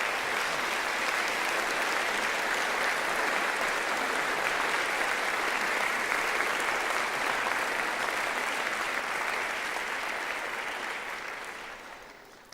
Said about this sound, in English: please join me in a round of applause for all the Swinburne staff.